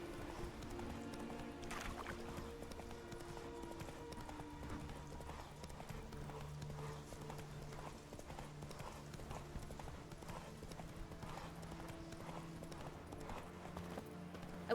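Horse hooves clip-clop in a steady trotting rhythm through The Witcher 3 game world, a continuous mid-level patter under faint background music, with some brief talk.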